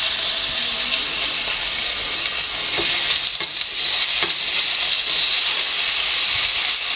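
Ginger garlic paste frying in hot oil for a samosa stuffing, a continuous close hiss and crackle with a few brief spoon clicks, steady and fairly loud, no voices.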